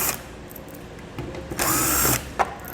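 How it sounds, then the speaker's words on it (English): Power tool with a 7mm socket backing bolts out while a Roadmaster base plate is mounted on a 2021 Buick Encore, two short bursts of close whirring with a sharp clack between, with no talking. "To remove the bolts, we'll be using a 7mm socket."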